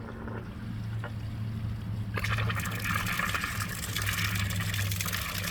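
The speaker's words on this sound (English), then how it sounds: "You can hear the air coming out now." Air and water sputter and rush from a hose at a Y valve while setting up a Class C RV at a campsite, a steady hiss that turns into a louder, bubbling gush about halfway through, heard alone and close.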